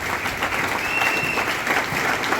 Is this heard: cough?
no